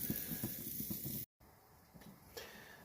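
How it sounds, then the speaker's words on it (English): Deer ribs sizzling on a barbecue grill, a faint steady hiss and crackle with a brief dropout midway. "Well, they're sizzling up nice."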